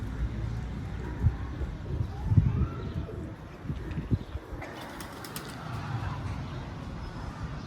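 Pigeons rising from a rooftop loft, wings flapping in soft bursts with low cooing nearby, fairly faint and outdoors, while someone talks quietly in the background.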